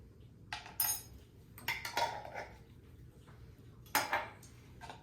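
A spoon scoops minced garlic from a jar, giving a few close, sharp clinks and scrapes at irregular moments, with quiet pauses between and no talk.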